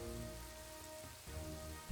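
Steady rain falling in the city-building game Kingdoms & Castles, a soft continuous patter over low ambient game music with a brief dip partway through.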